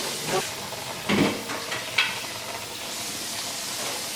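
Eggplant, onion, scallion and bell pepper fry in a pan with a steady hiss and sizzle, broken by a few brief clinks and scrapes of stirring.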